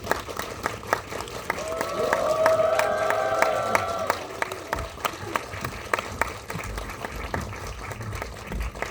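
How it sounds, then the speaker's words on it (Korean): Sustained audience applause fills a Korean film talk event for The Dark Nuns as guests are welcomed, dense clapping holding steady for several seconds with tonal music or voices underneath. "박수를 조금 길게 쳐볼까요?"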